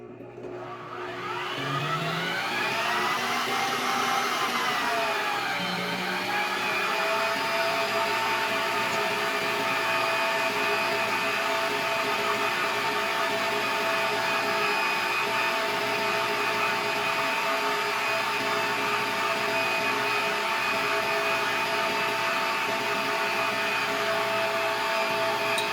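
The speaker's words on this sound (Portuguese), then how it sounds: "Aí eu deixo bater um pouquinho com o açúcar e vou acrescentando as gemas uma a uma aqui" Electric stand mixer beating egg yolks with sugar for a cake batter, a steady loud whirring motor hum that ramps up at the start and then holds constant throughout, no talking.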